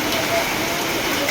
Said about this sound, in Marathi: पाऊस सुरू झालेला आहे. अवकाळी पाऊस आहे हा.